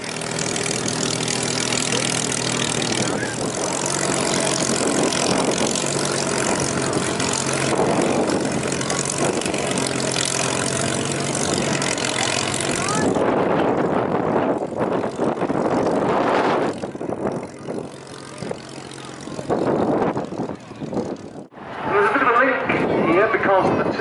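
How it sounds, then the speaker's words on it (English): A Bristol Blenheim twin-engine propeller aircraft taxiing at an airshow, its piston engines droning loud and steady close by, then easing and shifting pitch as it moves past, with an announcer's voice over the public address. "the Bristol Blenheim, which is taxiing towards the hard runway right now"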